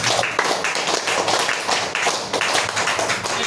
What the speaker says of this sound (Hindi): इनके लिए बहुत जबरदस्त ताली होना चाहिए।